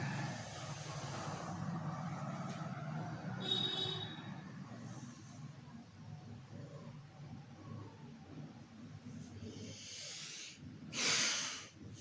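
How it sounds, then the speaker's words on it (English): Deep, slow inhale and exhale during nauli kriya yoga, a long breathy airflow close to the mic, ending with a stronger rushing exhale. "Take a deep inhale, exhale out."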